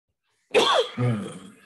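One sharp sneeze bursts out after a moment of silence, a loud breathy blast followed by a lower rasping tail, close to the listener.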